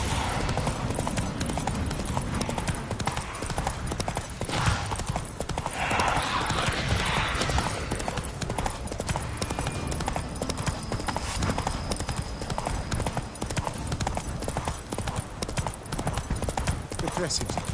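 Horse hooves clip-clop at a steady gallop through the whole stretch in The Witcher 3, loud and close, with a voice and game ambience layered over the rhythm.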